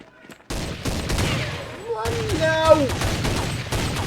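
Rapid bursts of gunfire in Counter-Strike, played against ten opponents, crackle loudly and almost continuously while someone talks and shouts over them.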